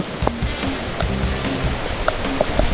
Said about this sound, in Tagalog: Labot tayo ng matinding ulan. Yan, mukhang matagal pa titigil.